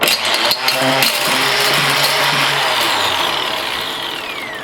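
A Mighty Mill rock crusher grinding gold mine ore roars loudly and continuously, with a whining motor tone that shifts in pitch and a brief dip near the start.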